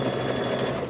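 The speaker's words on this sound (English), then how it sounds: "I just try to stitch right on the edge" A sewing machine runs fast, stitching right along the edge of a fabric bowl cover in a steady close mechanical whir with a rapid needle rattle.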